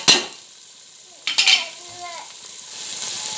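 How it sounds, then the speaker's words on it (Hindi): Coriander powder, fennel and garam masala fry in a pan while being stirred, with a sharp metallic scrape at the start, another clatter of utensils midway and a quiet sizzle underneath. "इसे मैं थोड़ा टाइम भून कर लूँगी मसाले को"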